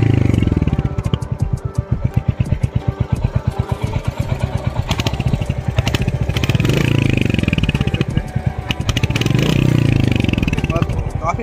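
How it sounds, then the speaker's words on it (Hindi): A 2022 Royal Enfield Hunter 350 motorcycle thumps with a steady, close exhaust note and rhythmic single-cylinder pulses, swelling into revs around the middle and near the end, loud throughout. "एंड गाइस इसका एग्जॉस्ट नोट आपको थोड़ा सुनाएंगे।"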